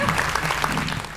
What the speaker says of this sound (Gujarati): સંકેતભાઈ માટે એક વખત તાળીઓ થઈ જાય એવરીબડી